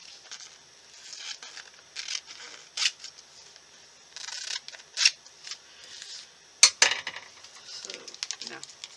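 Scissors trim packaging up close, giving a series of crisp snips and rustles in irregular bursts, with some handling clatter near the end.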